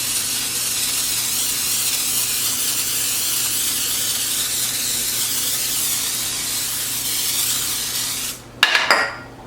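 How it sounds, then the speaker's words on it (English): Butter spray hisses steadily from a can onto rolled-out dough rolls in a kitchen, a long continuous close-up spray lasting several seconds before a clatter of the can or dish at the end. "We are going to just spray them really well with the butter spray."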